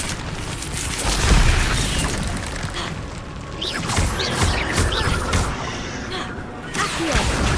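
Fire spells cast in the wizarding game Hogwarts Legacy during a fight: loud booming bursts with whooshes and crackling impacts, swelling several times amid continuous battle noise.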